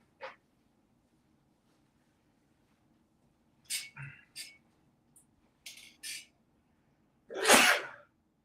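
One loud, sharp sneeze lands near the end, preceded by quiet breathy sniffs and faint scattered sounds in a hushed room at a 9-ball pool match.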